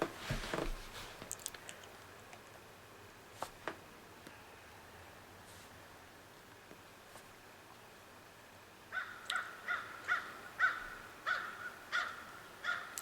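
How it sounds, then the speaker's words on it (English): Crows caw outdoors, a few scattered distant calls early on, then a rapid series of loud, repeated harsh caws near the end over quiet background. "Hear the crows."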